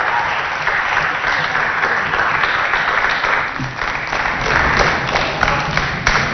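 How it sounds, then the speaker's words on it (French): Sustained audience applause at a televised Christmas special in Chad, broad steady clapping from a large crowd, loud and even throughout. "On applaudit deux autres enfants de l'ET 12."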